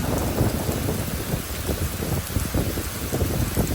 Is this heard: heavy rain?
yes